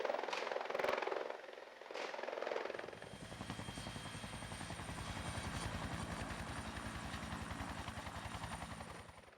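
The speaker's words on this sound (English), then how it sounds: "Jack Ryan narrowly escapes Colombian assassins by hanging on to a flying helicopter" A helicopter lifting off during a movie stunt scene in Colombia with a man hanging from it, its rotor chopping in a fast steady beat that swells and holds, loud and near after a few sharp bangs at the start.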